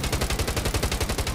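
Rapid automatic gunfire from a weapon in the Call of Duty Mobile game, a fast steady stream of punchy, booming shots with a heavy low thump, continuous and loud with no talking.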